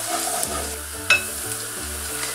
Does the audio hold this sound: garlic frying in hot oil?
yes